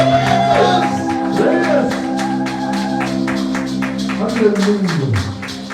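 A church congregation shouts and whoops praises during a worship service, with loud, overlapping voices and sustained cries near at hand, while a strong voice rings out above the crowd.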